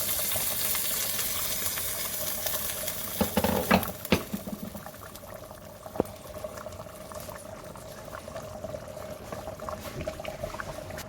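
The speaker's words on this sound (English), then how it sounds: "I'll cover and allow it to boil before adding the rice." Water and stockfish stock boil in a covered pot for Nigerian jollof rice, a steady bubbling simmer with a faint hum. A few louder clinks and knocks come through near the middle.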